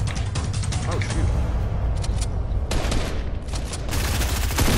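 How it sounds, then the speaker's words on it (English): Rapid bursts of gunfire crackle through a Fortnite Arena duo end-game fight, with repeated volleys and sustained shooting layered under players talking throughout. "You're getting shot at from somewhere else."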